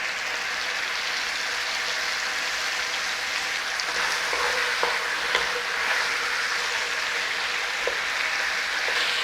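Chicken pieces browning in a pan for chicken and barley soup give a steady close sizzle with a few soft scrapes of stirring, and no voices.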